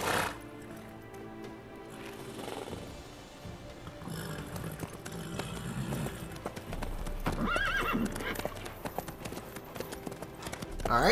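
A horse named Roach clip-clops and neighs in The Witcher 3: Wild Hunt, with a loud whinny standing out over steady hoofbeats, set among game music and light voices.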